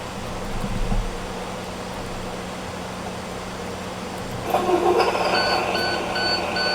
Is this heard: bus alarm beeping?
yes